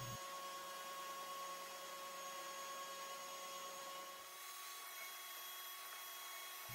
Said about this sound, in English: I vacuum my walls actually. It removes the dust from them and helps the primer stick better.